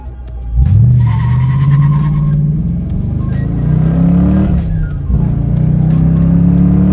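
A Dodge Challenger R/T with a 5.7-litre Hemi V8, carrying three passengers, accelerates hard. The loud, deep engine note climbs steadily, briefly dips at a shift, then rises again, close and continuous.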